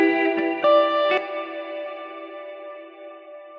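Guitar track run through a reverb effect plugin with a shimmer-like character, a few picked chords and notes followed by a long, smooth, washy tail fading slowly.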